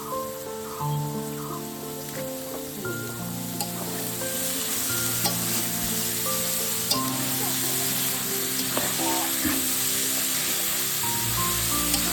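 Boiled banana flower sizzles steadily in hot oil and spices, with a spatula scraping and stirring the pan, a continuous loud frying hiss punctuated by sharp clicks of the utensil throughout.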